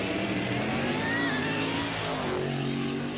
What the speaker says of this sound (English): engine sounding more and more horsepower as he heads towards the finish line